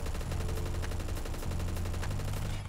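Rapid automatic gunfire in the shooter game Phantom Forces, a dense, continuous rattle of shots layered over a loud, steady game soundscape.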